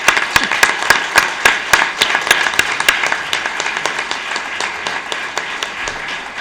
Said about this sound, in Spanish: Un aplauso para los ganadores.